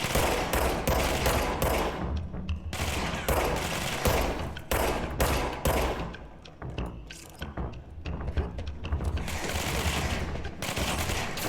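Gunfire in the video game Control: dense, loud rapid shots in repeated volleys, briefly easing in the middle before resuming at full intensity.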